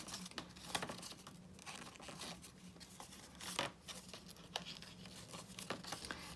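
Paper being folded for a 3D Christmas tree decoration, a steady close crinkling and rustling with a few sharper creases and crackles, heard alone without talk.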